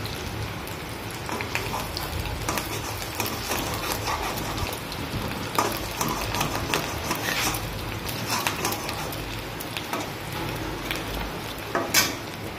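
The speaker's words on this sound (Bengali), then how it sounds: "এই দেখো ডিম ভাজছি, মাছের ডিম" Fish roe frying in a pan in a home kitchen, a steady crackling sizzle like rain that stays at a constant loudness throughout, with brief sharper pops and no talk.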